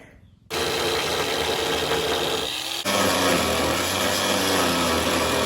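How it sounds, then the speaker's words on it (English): An angle grinder bites into metal inside a gutted van, starting abruptly with a loud, harsh rasping whir that continues close-up and shifts pitch as the cut changes. "So Jason's going to grind it off"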